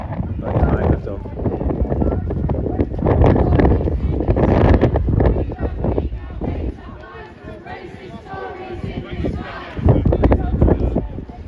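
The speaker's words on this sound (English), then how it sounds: "don't know if you can hear it, it's windy" Gusty wind buffeting an outdoor microphone at a street protest against Reform in Hull, a steady low rumble under talk and distant crowd noise throughout.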